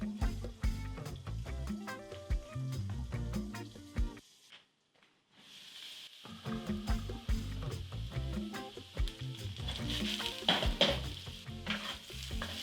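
Pork and potatoes frying in a pan over medium heat, a continuous sizzle under music with a short quiet gap before the sizzle returns and brightens.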